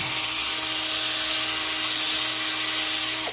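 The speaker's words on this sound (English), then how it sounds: "I found this little attachment for my drill that I can take, put in here" A power drill with a smoothing attachment runs continuously at close range, a high steady whine with a faint grinding rub as it smooths a bottle, ending abruptly.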